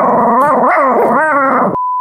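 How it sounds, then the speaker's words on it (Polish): A pet dog makes a loud, close, sustained growling and whining vocalisation with wavering pitch for under two seconds, followed by a clean electronic beep tone. "Lila też teraz szczekała"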